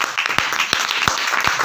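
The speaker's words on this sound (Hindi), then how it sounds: "हम परमेश्वर की महिमा की तालियां देंगे" A church congregation gives brief applause during a sermon service, a steady clatter of hands with a few sharper claps standing out near the listener.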